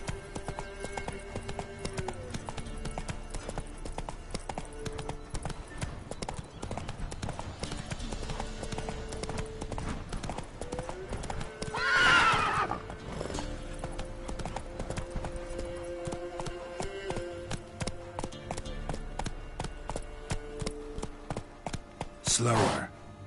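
A horse in a video game gallops in quick, continuous clip-clop hoofbeats, with two brief whinnying bursts rising above them and some faint voice-like sound underneath.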